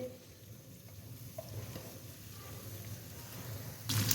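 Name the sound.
ridge gourd (tinda) frying in oil in a pan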